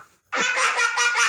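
A fart sound shaped with cupped hands to mimic a duck's quack, one loud, close, nasal honking burst after a brief pause, wavering for about a second.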